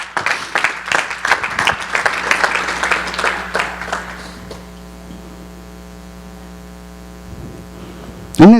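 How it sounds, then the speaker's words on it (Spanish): Church congregation applauding, busy clapping for about four seconds that fades out, leaving a steady electrical hum and faint static, with a brief sharp noise at the very end. "¿Cuántos le dan un aplauso al Señor?"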